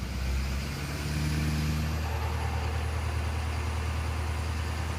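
A Ford 6.7 diesel truck engine holds a high idle near 1200 RPM, a steady, close, throbbing rumble that rises slightly at the start and then stays even.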